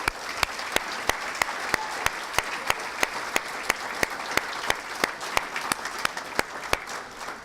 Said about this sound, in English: Former coaches, one more round of applause, please.